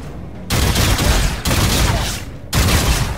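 Heavy rapid gunfire in Call of Duty Infinite Warfare arrives in three loud, sustained bursts separated by short breaks, dense and close throughout.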